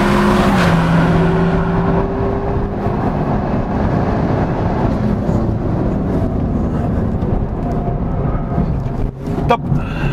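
A Renault Mégane 4 RS Trophy-R, a record-setting front-wheel-drive car, is driven hard around a racing circuit. Its engine roars loudly and steadily from up close, rising and falling in pitch with shifts, and nobody speaks.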